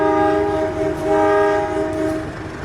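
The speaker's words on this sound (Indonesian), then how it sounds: "Nah, ini ada berangkat kereta, apa ini, barang ya kalau kayak gini ya." An empty freight train departs, its horn blowing in two long loud tones with a short break between them, under a steady rumble of rail noise.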